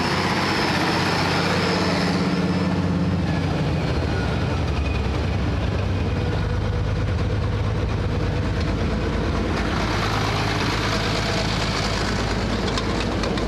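A New Holland NH790 forage harvester engine runs loud and close, its steady drone and rumble dropping as it is throttled down toward idle, with no talking.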